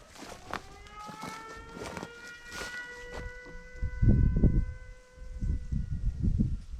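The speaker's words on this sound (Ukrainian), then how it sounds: "Повітряна тривога." An air raid alert siren wails as a steady harmonic tone that slowly sinks and fades over the first few seconds, followed by irregular low rumbling noises.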